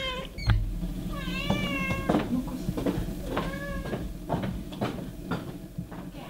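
A house cat meows several times in a row, close by and clearly audible, with soft background noise and faint voices indoors.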